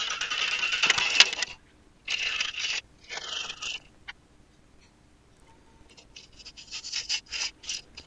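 A Robert Sorby 1.5-inch spindle roughing gouge cuts down a spinning red magnolia blank on a lathe, giving bursts of close, harsh scraping and chattering separated by short quiet gaps, ending in rapid rattly cuts.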